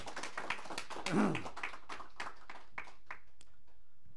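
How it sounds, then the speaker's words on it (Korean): A small indoor lecture audience claps for Dr. Jo. The claps are quiet, scattered and uneven, with a brief voice mixed in, and they thin out toward the end. "우리 조 박사님 박수 한번 더 쳐드릴게요"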